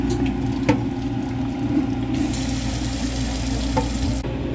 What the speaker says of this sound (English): and then just rinse it out with water and you're good.